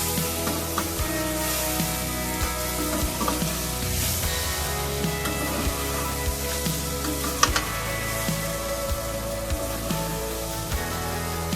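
Beef liver frying in spices over a low flame gives a steady sizzle and crackle with occasional spatula scrapes, constant and close throughout.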